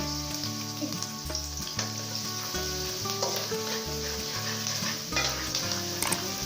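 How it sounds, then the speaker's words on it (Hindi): Onions sizzle steadily in a hot pan, with occasional scraping and clinks of a spoon stirring; close and moderately quiet, no voices. "प्याज जैसे हमारे फ्राई हो रहे हैं"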